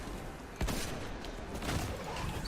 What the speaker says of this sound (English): Just finish him off with my pulse rifle.